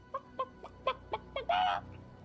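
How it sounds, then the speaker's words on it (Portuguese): A chicken-like bird in the video game Prince of Persia The Lost Crown gives a series of short, evenly spaced clucks, then ends with one longer, louder squawk, heard clearly with no talking. "Parece uma galinha."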